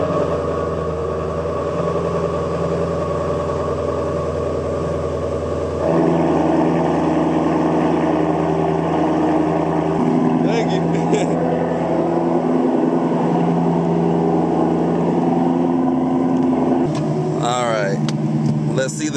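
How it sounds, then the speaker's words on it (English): A Ford Mustang GT350 engine cold-starts after sitting a couple of hours, its rumble jumping louder around the six-second mark and then settling into a steady, close idle drone, with a few brief clicks near the end. "let me get a cold start on this thing."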